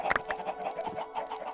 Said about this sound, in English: I've added a little chicken pit to the mix.